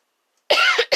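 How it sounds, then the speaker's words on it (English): A person coughs in a close, loud burst of harsh coughing, followed by a brief pause and another cough starting, after a moment of silence. "I'm having to cough so much."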